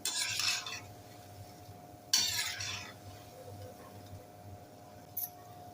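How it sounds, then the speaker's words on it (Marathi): Shankarpali dough pieces frying in oil over medium heat, with a low simmering bubble under two bursts of scraping from a slotted spoon and a brief metallic clink near the end; no speech. "झाऱ्याने मध्ये मध्ये हलवून घ्यायच्या आणि तांबूस रंगाच्या वेळपर्यंत फ्राय करायच्या"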